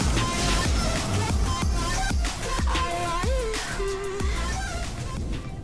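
Fortnite glider sound effect, the free Korektor glider from the 14 Days of Fortnite event, with whooshing wind and wavering tones. A continuous, fairly loud game audio bed with gliding pitch sweeps.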